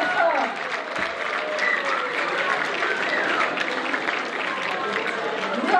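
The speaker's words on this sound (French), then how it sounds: "On applaudit très fort." A concert audience applauds loudly and steadily for about six seconds, with cheering voices mixed into the dense clapping.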